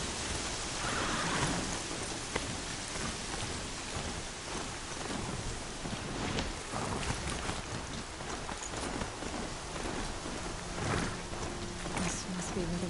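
A rainstorm pours steadily, a dense hiss of rain with low thunder rumbling now and then, loud and close throughout.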